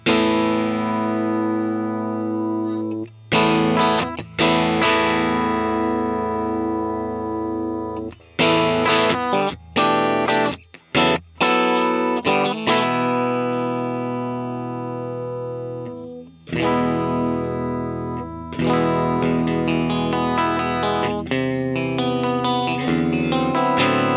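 An electric guitar runs through an Axe FX III vintage preamp with a Dyna Cab, playing loud sustained distorted chords and riffs with brief stops and effects-laden ringing, close and without any voice.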